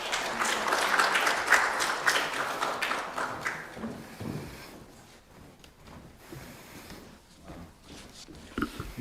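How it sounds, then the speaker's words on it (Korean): An indoor audience at a district education lecture applauds a speaker, a dense burst of clapping that thins and fades over several seconds, with a few scattered claps and noises afterward. "큰 박수로 맞아주시기 바랍니다"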